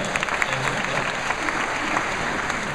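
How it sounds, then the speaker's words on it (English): Audience at a live comedy show in Pearl, Mississippi claps steadily throughout, a dense wash of applause from a nearby crowd. "Clap for you young kids."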